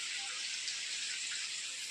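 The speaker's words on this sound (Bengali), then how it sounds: "বৃষ্টির জল এখন রান্নাঘরে ঢুকছে" Steady hissing patter of rainwater falling and dripping into a kitchen, constant and fairly faint, with no voices.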